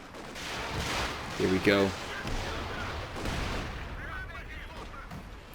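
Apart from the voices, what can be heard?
artillery barrage in the video game Company of Heroes 2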